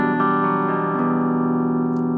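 Clean electric guitar tone from a custom Fano guitar on the neck pickup, a few sustained chords ringing out steadily with no talk over them.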